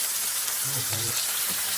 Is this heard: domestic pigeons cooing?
no